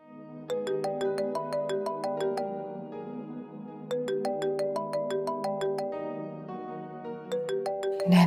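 A phone ringtone plays an incoming-call melody of bright, plinking notes, repeating in clear phrases with short pauses between them, loud and alone.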